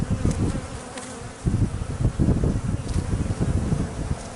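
A dense swarm of honeybees from a large removed hive buzzes loudly and continuously at close range, the drone swelling and fading as bees move past.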